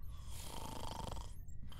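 Steady, rhythmic snoring at close range, low rumbling breaths repeating without pause and with no voices present.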